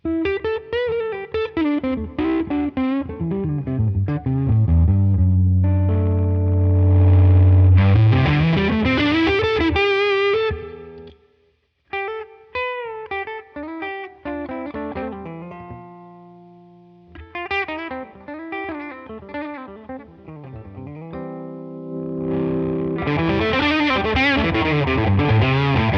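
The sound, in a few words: electric guitar through a pedalboard with the volume pedal varied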